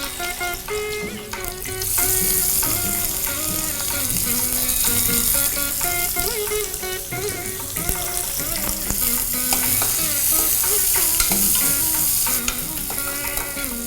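Sliced onions frying in hot oil with cinnamon bark, curry leaves and green chilies, a steady close sizzle with occasional stirring scrapes, heard alongside background music and no speech.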